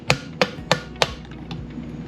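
Hammer striking the turbo on a Predator 212 engine: four sharp, evenly spaced metallic knocks, close and distinct, followed by faint ringing and quiet handling.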